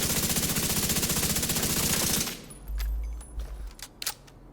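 The Chameleon exotic assault rifle in The Division 2 fires a rapid sustained automatic burst for about two seconds, then stops, leaving quieter game ambience with faint clicks.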